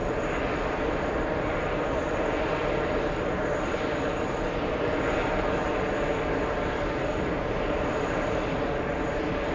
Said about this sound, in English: That is definitely a 777-300 ER